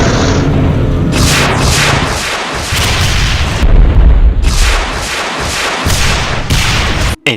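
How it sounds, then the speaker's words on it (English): A Cyberdemon in a Doom mod fires volley after volley of rockets, a loud string of booming blasts and crackling explosions in quick succession, ending in a sudden cutoff. "It has more than just firing dual volleys of straight rockets."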